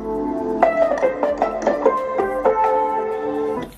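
Short music track from a royalty-free library, bright melodic notes in a quick rhythmic run with a sustained tone underneath, clear and alone with no talking.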